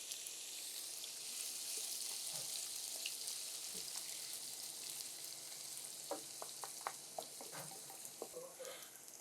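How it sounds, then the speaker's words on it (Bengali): Onions cooking in hot oil in a pan while an egg dish is prepared, giving a steady soft sizzle with faint spoon scrapes and light ticks near the end. "পেঁয়াজটা আমি হালকা ভেজে নিয়েছি, একটু মানে কালারটা চেঞ্জ হয়েছে।"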